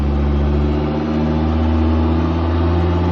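A tuned Ford Focus ST engine of about 455 horsepower gives a steady, loud drone with deep harmonic hum, running continuously at high load on a dynamometer, no voices.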